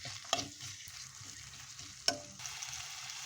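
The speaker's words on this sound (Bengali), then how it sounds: "সেটা আগে একটু ভেজে নিচ্ছি যাতে রসুনের স্মেলটা ছড়িয়ে যায়" Boiled potato, onion and chili fry with garlic in a pan for noodles, a soft, steady sizzle broken by two sharp clinks of a stirring spoon, quiet and close.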